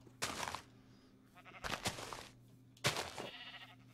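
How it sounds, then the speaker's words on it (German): Several bleats from sheep in the video game Minecraft, three distinct calls spaced about a second apart over a steady low background hum. "Oh, es poppt, kleine Schäfchen."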